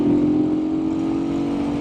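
A Janus Halcyon 450 air-cooled, oil-cooled single-cylinder motorcycle engine holds a steady, loud, even drone, running smoothly at speed without breaks or talk.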